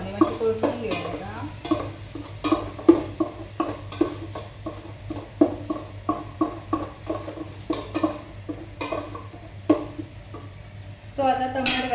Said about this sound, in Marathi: कांदो बरो ब्राउनिश जावनी मातशें तळसून घेवया.